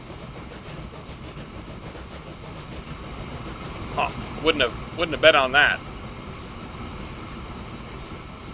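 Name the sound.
freight train running in video game Transport Fever 2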